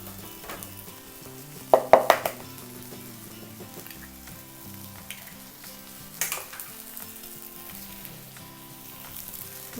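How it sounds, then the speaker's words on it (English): Wild mushrooms and buckwheat sizzling in a frying pan while being stirred, a soft continuous fry broken by a few sharp scraping clatters of the spoon against the pan. "I'll give this a little stir"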